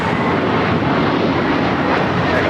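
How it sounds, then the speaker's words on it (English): An American Airlines Airbus A321 departs LAX for Dallas Fort Worth, its engines producing a loud, continuous rushing roar that holds steady throughout, with no speech present. "This is American Airlines 2091 taking off to Dallas Fort Worth on the A321"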